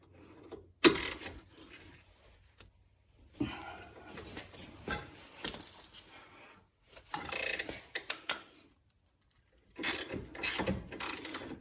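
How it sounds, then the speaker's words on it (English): Front suspension bolt on a 2012 Hyundai Tucson broken loose with a 1/2-inch drive ratchet and shallow socket: close, loud bursts of rapid ratchet clicking and metallic rasping, separated by short pauses. "Just break it free with a nice 1/2-inch drive here."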